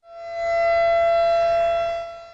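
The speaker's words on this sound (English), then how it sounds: "Tornado sirens warning us that severe weather is about to strike." A single loud, sustained tornado warning siren wail holds a steady pitch, rising in at the start and fading at the end, with nothing else heard.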